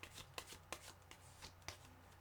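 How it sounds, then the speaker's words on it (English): Tarot cards shuffled by hand, a quick series of soft riffling slaps and flicks, close but quiet, with no voices. "Okay, I'm just going to give it one more shuffle"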